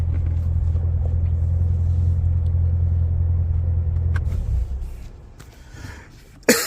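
Car engine with a steady low rumble while driving, which fades as the vehicle pulls up and stops, followed by a few faint handling clicks and a final thump.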